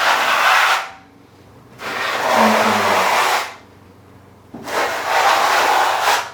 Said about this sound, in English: go back then with the notch side of your trowel